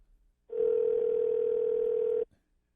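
Steady telephone dial tone heard on a handset while placing a call, one continuous loud hum lasting under two seconds, starting and stopping abruptly, with nobody talking over it.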